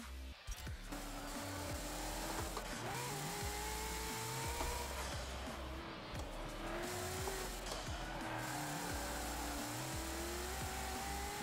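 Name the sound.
race car engine revving in video game Forza Motorsport 7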